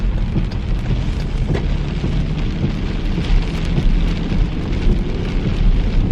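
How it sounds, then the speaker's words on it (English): Heavy evening rain falling outdoors around a parking lot, a loud, dense, unbroken hiss of drops striking surfaces, with faint rumbling beneath it. "I didn't even know it was supposed to rain tonight."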